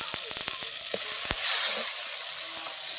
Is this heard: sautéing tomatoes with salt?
yes